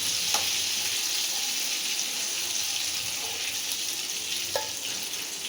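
Rock fish fries in a pan of hot oil with a steady, even sizzle, broken only by a few faint ticks and clinks close by.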